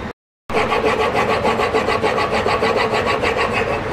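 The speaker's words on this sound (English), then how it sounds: "after about 1 to 2 minutes of just back and forth continuously on our extra fine side of the stone" A wood plane blade sharpened back and forth on the extra fine side of an oiled stone, giving loud, continuous, evenly rhythmic gritty strokes after a brief silence at the start.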